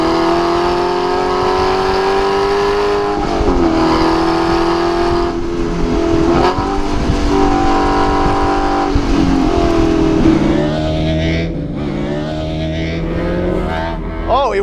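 An Aston Martin V8 Vantage S Roadster engine roars loudly and continuously on the road, rising and falling through revs and gear changes, with a throaty rumble held close throughout.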